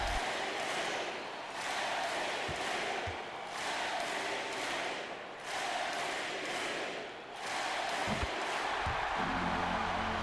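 Arena crowd noise in the NBA 2K21 basketball video game at the Smoothie King Center, a sustained roar with rhythmic swells like MVP chants during free throws, loud and continuous.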